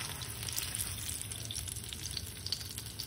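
Mustard, poppy seed and green chilli paste frying in a pan for a hilsa curry, giving a steady, moderate sizzle with faint scraping of stirring throughout.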